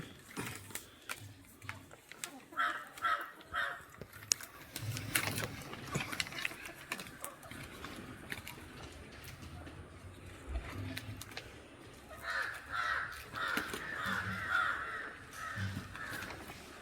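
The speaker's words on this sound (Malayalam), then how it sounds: "കാക്കകളൊക്കെ വന്നിട്ടുണ്ട്." Crows caw repeatedly at close to moderate distance in an outdoor yard, their harsh calls arriving in uneven bursts among scattered clattering and rattling noises, with no voices present.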